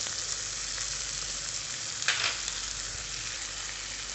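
Onions and tomatoes with salt fry in a pan with a steady, even hiss, with one brief scrape of stirring partway through.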